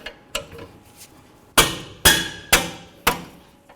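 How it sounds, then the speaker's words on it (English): A rubber mallet strikes a wrench fitted on a brake bracket bolt of a 2009–2016 Mercedes-Benz E350 rear brake, with a few light taps followed by four sharp, evenly spaced blows close up. "Just give it a couple bonks with my rubber mallet to break them free."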